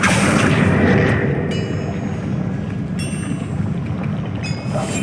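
Bombarda blasting spell exploding in the video game Hogwarts Legacy, a heavy rumbling boom at the start that decays into a sustained roar, with a few sharp crackling hits layered through it.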